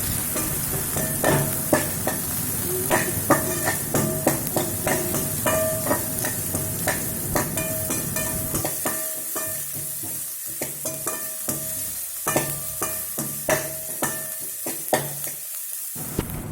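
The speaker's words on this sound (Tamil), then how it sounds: "இப்போ நம்ம போட்ட வெங்காயம் நல்லாவே ஃப்ரை ஆயிடுச்சு" Sliced onions fry in a pan with a steady, close sizzle while a spoon stirs them, adding repeated scraping strokes throughout. No voices are heard.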